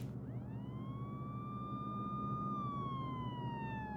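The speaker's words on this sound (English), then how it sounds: "Does anyone else hear the sirens coming from outside?" Siren wail of an emergency vehicle passing outside in an audio drama, one long rising then slowly falling tone with harmonics, steady and fairly loud over a constant background rumble, no talk.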